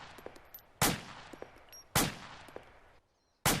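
Rifle shots fired at a rapid rate of about one per second, three sharp, loud cracks standing alone with short decaying tails and faint clicks between them.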